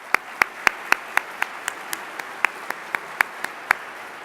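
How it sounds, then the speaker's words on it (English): Scattered applause from an audience at a college's 50th anniversary celebration, a thin run of a dozen or so distinct, evenly spaced claps, fairly quiet and fading. "help me give them one more round of applause for their hard work"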